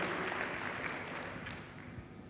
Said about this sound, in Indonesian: Berikan sekali lagi tepuk tangan bagi Tuhan.